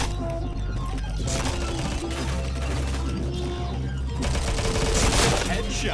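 Dense, continuous gunfire from the shooter game PointBlank, rapid automatic bursts layered with mechanical clicks, loud and close throughout with no let-up.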